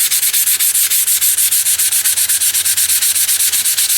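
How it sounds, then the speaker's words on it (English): Sandpaper is rubbed by hand over a vinegar-finished axe head in a light sanding, giving fast, even, rhythmic scratching strokes, loud and close with no talking. "all you do is take the sandpaper and just give it a light sanding"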